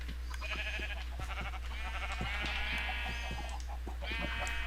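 Minecraft 1.6.4 sheep keep bleating in quick succession, with layered, quavering calls that are close and fairly loud over a constant low game-sound bed, and no talking.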